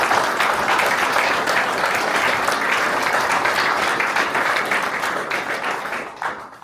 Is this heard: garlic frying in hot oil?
no